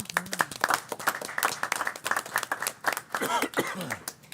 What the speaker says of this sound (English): That itself deserves a round of applause.